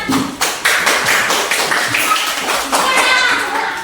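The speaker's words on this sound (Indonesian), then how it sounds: "Oke, tepuk tangan untuk kita semua." A group of people clapping together after a classroom counting exercise, a dense burst of hand claps lasting several seconds at close range, with a few children's voices underneath.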